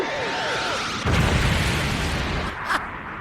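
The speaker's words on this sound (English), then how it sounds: "Upon landing on Earth, Frieza makes his presence known to everyone by blowing up a city." A city blown up in a Dragon Ball animated scene: a heavy rumbling boom erupts after a whooshing buildup, followed by a second burst and crackling debris.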